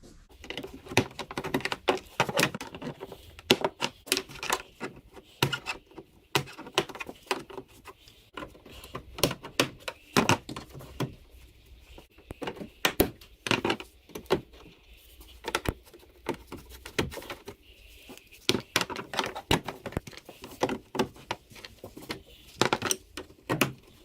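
Plastic clips come off a car's upper headlamp panel in a scattered series of sharp clicks, snaps and small knocks, close and irregular, with quiet gaps between them.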